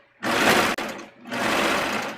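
A sewing machine runs in two loud, steady bursts with a brief pause between them, stitching swimsuit fabric over a strip of Scotch tape at close range.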